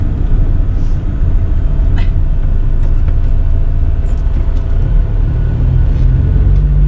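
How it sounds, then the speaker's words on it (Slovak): Cars driving through the streets of Banská Štiavnica, a steady loud low rumble of passing traffic throughout with no talk. "V Banskej Štiavnici jazdia takéto auta."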